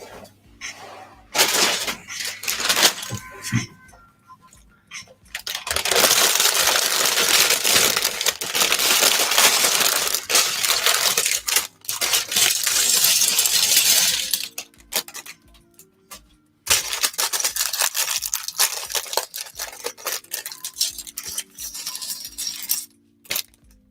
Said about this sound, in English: Okay, ASMR bag opening